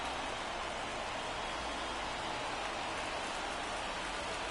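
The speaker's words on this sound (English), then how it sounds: "the field's not going to be able to hold up if the rain gets any worse than this" Rain falls on the baseball field in the MLB The Show 24 video game, a steady dense hiss of drops with no break and no voices.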